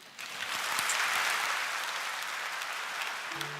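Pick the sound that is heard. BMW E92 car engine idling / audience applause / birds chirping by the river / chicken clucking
audience applause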